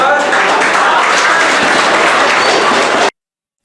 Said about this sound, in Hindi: तो जोरदार ताली बजाइए फिर से